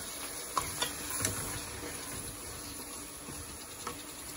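Tomatoes and aloo bukhara plums dropped into golden fried garlic in a pan over a medium flame, giving a soft steady sizzle with a few clinks and stirring knocks near the start, no talking.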